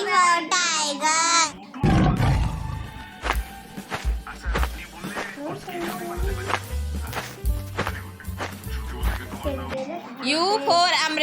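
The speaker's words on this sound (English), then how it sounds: "T for tiger." A tiger roars in a children's phonics song, a deep cartoonish growl sounding between music and sung words.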